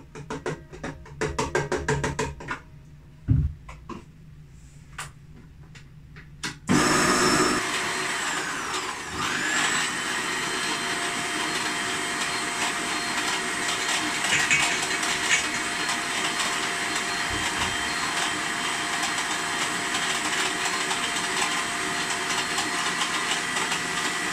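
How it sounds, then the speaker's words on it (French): Electric mixer whipping cream, starting after a few seconds of quieter clattering and then running as a steady loud whir that continues to the end. "je vais monter ma crème, la mettre dans le batteur"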